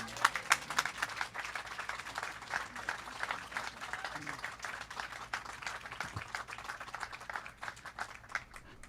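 Scattered applause from a modest audience at a community recognition ceremony, crisp individual claps in a thin, uneven patter that stays faint and distant throughout.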